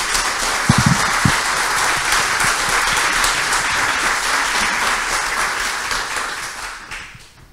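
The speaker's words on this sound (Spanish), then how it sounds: "para quienes pido un fuerte aplauso." Strong, sustained audience applause at a startup demo day, dense and even clapping for about seven seconds with a few low thumps early, fading out at the end.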